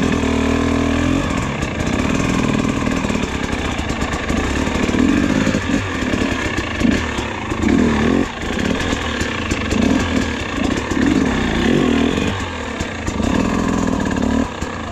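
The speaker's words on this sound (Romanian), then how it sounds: "Nu se oprește motorul." An enduro motorcycle engine runs continuously and loudly close by, its revs rising and falling with uneven pulses while it climbs and descends rocky terrain. No voices are heard over it.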